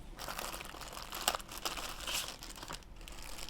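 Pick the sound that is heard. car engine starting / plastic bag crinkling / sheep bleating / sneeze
plastic bag crinkling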